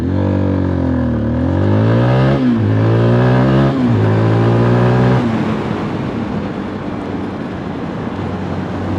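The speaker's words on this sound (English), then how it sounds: "I can just slam on the brakes" A 2022 Zontes GK350 motorcycle brakes hard; its loud engine drone drops in pitch through several stepped downshifts, then gives way to rushing wind and road noise as the bike slows, recorded close from the rider's position.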